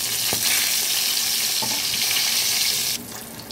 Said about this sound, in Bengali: ফোড়নটাকে এখন আমি 2-3 সেকেন্ডের জন্য একটু ভালো করে ভেজে নেব